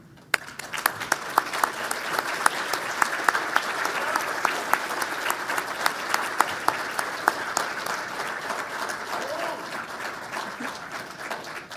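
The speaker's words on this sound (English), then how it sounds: "please stand for a round of applause." A large audience applauds competition teams at the DOE Solar Decathlon, with dense, steady clapping that rises quickly and carries on for about twelve seconds, sharp individual claps poking through the wash.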